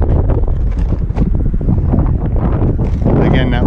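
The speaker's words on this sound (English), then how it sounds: "a little windy out today" Wind buffets the microphone in heavy, rumbling gusts, loud and close, continuous throughout.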